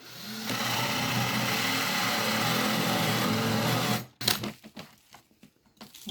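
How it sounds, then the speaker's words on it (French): A power drill bores a hole for an invisible hinge, its steady loud whirring motor running for about four seconds before stopping, followed by a few short clatters and handling knocks. "Et après, on vient percer."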